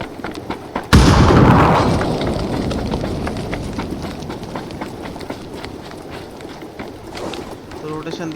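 A grenade blast goes off in PUBG gameplay, a loud sudden boom followed by a long rumbling decay, with scattered gunfire-like crackles and game noise continuing afterward.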